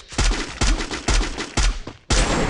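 Loud gunfire in the battle-royale game Free Fire, five rapid booming shots in quick succession, close and harsh, each followed by a short burst of crackling reverberation.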